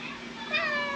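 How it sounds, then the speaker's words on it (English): A large, somewhat timid cat gives a single drawn-out meow, close and fairly clear, with faint background noise. "Meow, cat."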